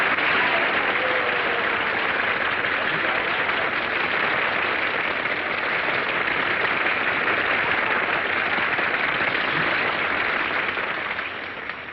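A studio audience at a 1940s Hollywood breakfast radio show applauds, dense continuous clapping holding steady and loud for the full stretch before tapering slightly at the end.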